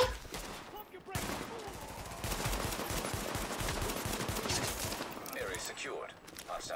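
Heavy gunfire exchange in The Division, sustained dense volleys of shots and impacts running almost continuously, loud and close, tapering into scattered reports near the end.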